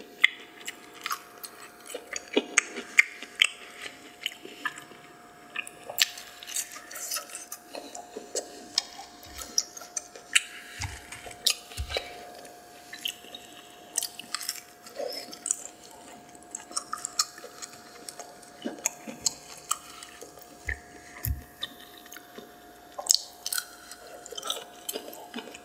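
Close-up ASMR eating of White Castle chicken rings, with soft repeated chewing, biting and crunchy mouth sounds in irregular bursts over quiet background, no talking.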